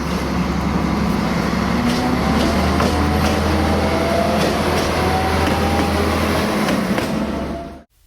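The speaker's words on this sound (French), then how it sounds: "La locomotive fait un tête-à-queue et se met en place pour le retour." CKD diesel locomotive running round at the small Osoblaha terminus, a steady low engine drone with a constant hum, faint rhythmic clanks over it, continuous and fairly close, cutting off at the end.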